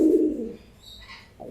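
A single low, soft pigeon coo at the start, followed by quiet background rustle and a faint higher chirp near the end.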